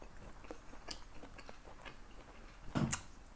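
Someone eats a home meal of yakiniku with fried tofu and aburaage, giving soft close chewing and biting noises in a steady rhythm, with a louder crunchy bite near the end and no talking.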